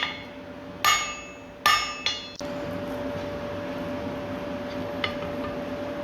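A blacksmith's hammer strikes hot steel on an anvil while setting down a section of scroll tongs, three or four sharp ringing blows in quick succession, then one faint tap later over a steady forge hum.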